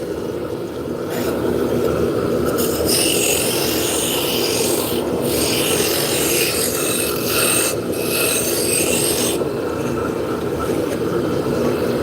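Continuous scraping and rumbling from wood spindle turning on a lathe, a tool cutting the spinning stock with steady texture and brief dips as the cut lifts off, loud and close with no talk.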